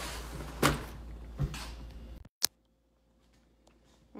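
A couple of sharp wooden clatters and a sliding scrape as a junk drawer opens, then a loud bump as something shuts, followed by near silence.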